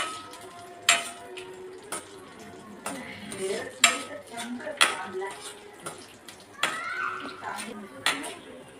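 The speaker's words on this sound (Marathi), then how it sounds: "हे बघा आता ड्रायफ्रूट आपले फ्राय करून होत आलेले आहे" Dry fruits fry in a pan for custard kheer while a utensil clinks and scrapes against the metal in sharp, irregular knocks, with a faint sizzle underneath and a person talking nearby.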